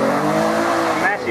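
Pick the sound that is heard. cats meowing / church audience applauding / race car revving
race car revving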